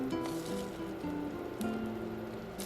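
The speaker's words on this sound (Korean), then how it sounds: "달군 프라이팬에 한 수저씩 올려주세요." Spoonfuls of enoki mushroom mixture with chopped chili and green onion frying in a heated pan, giving a steady crackling sizzle like light rain, with a background tonal hum and occasional faint clicks.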